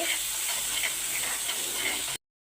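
Biryani masala, chilli, turmeric and salt frying and being stirred in a pan for mushroom biryani, giving a close, steady hiss of sizzling with light tapping as the spoon moves, then cutting off abruptly.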